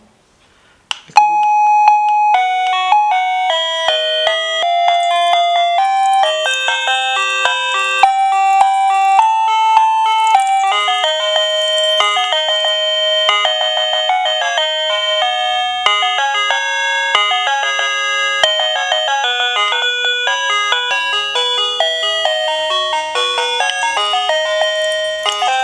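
A Kerui M525 wireless doorbell plays a run of bright electronic chime melodies, loud and close, cycling through several tunes with no voices.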